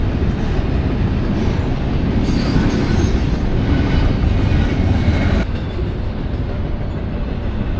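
A train rolls steadily past in Williams, Arizona, a loud continuous rumble and clatter of railcars with wheel squeal, easing slightly near the end.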